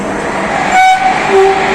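A locomotive is coupled to the Rajkot to Bhuj train on a station platform, with a loud rumble of rail equipment and two short, tonal whistle or horn toots near the middle and end.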